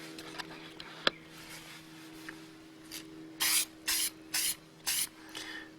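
Krylon spray coating is applied to a stamped artwork in four or five short, loud, hissing bursts in quick succession. Quiet rubbing and handling noises come before the bursts.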